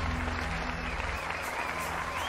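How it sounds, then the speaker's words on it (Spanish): A studio audience applauds on a Spanish-language talk show, a soft, steady patter of clapping with a low hum beneath, fairly faint and without speech. "¡Aplauso, por favor!"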